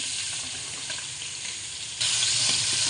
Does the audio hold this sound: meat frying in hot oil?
yes